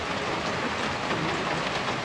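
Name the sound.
rain falling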